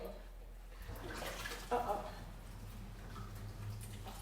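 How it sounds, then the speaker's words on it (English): Water sloshes and splashes in a kitchen sink being cleaned out, a continuous wet wash with a brief louder splash midway, close by. "So right now I'm just gonna kind of clean out the sink"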